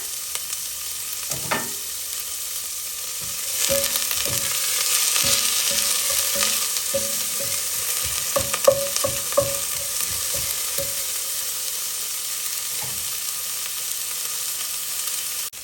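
Half an onion and a few curry leaves frying in a pan for a South Indian green beans poriyal, with a steady soft sizzle and repeated close scrapes and clinks of a spoon stirring against the pan.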